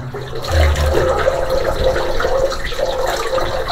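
Fresh spring water pours straight from rock in the Sitabunan cave near Lake Toba, a steady close gushing and splashing that runs continuously without talk.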